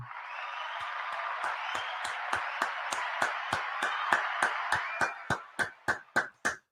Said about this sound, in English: Let me give you a round of applause for that, bro